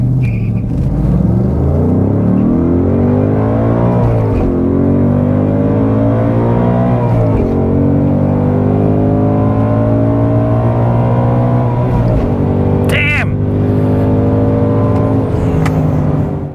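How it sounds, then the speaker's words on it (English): A car launches at 3,500 RPM on a drag run, its engine roaring loud and close as it climbs through the gears, with pitch rising and dropping at each shift and a brief high whine near the end. "It took off nicely, smallest amount of spinning on the line, and the whole run was good until I hit the limiter before shifting into fourth."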